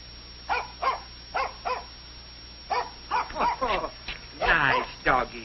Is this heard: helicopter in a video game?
no